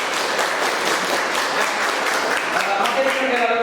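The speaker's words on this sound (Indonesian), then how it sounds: "Oke, tepuk tangan untuk dia ya." Students in a religion class clap for a classmate, a steady round of applause throughout, with a voice speaking faintly underneath toward the end.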